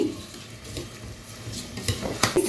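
A spoon stirs rice and prawns together in a pot of gravy for prawn biryani, giving soft scraping and clinking scrapes at a steady pace, close by, with a louder knock of utensil against the pot near the end.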